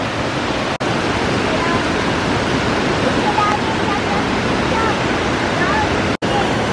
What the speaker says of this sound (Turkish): şelale bak düşüyor ya böyle